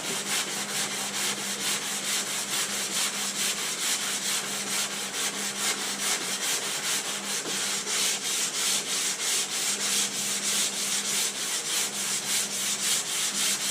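A sanding block works over body filler in steady back-and-forth strokes, a close, continuous abrasive rasp with an even rhythmic pulse and no talking.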